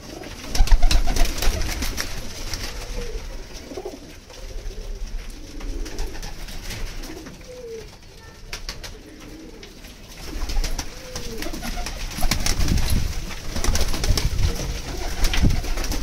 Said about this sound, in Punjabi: ਟੈਡੀ ਕਬੂਤਰ ਬੜੇ ਆ ਵਿੱਚ, ਗੋਲਡਨ ਟੈਡੀ, ਇਹ ਟੈਡੀ ਜੋੜਾ ਜੀ ਵਿੱਚ।